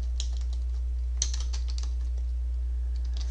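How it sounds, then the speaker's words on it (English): Rapid, close clicking of keys on a computer keyboard, an irregular run of light taps over a steady low electrical hum, with no voices. "I just simply start typing in here"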